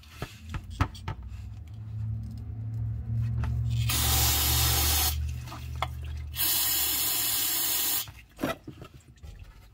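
Two loud bursts of hissing spray flush out the transfer case of a Nissan R50 Pathfinder in a home garage, each lasting about a second or more, with quieter rattles and low rumbling between them.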